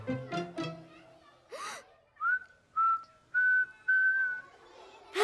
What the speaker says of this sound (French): Tu as appris à siffler.